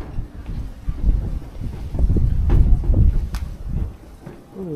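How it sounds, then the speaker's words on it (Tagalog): Strong wind blows outdoors in a cemetery, gusting and buffeting the microphone in uneven surges that build toward the middle and ease near the end, with faint rustling underneath. "Sobrang ng hangin pa."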